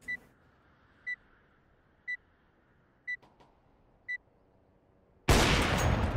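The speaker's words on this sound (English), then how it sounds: "Deploying flashbang. Throwing flashbang." Counter-Strike 2 flashbang countdown: five evenly spaced electronic beeps a second apart, then a sudden loud burst of bright noise that rings on to the end.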